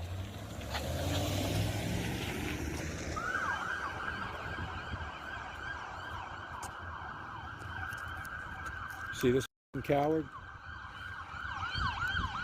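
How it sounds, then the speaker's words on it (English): A police car siren wails, rising and falling repeatedly at a moderate distance, with traffic noise and a brief spoken remark over it. "He just left out with his lights and sirens on."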